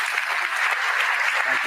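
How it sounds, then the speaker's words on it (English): Wedding guests applaud the pastor after the ceremony, a steady, dense wash of clapping that fills the whole stretch, with a few voices briefly rising through it near the end. "Let's give him a warm round of applause."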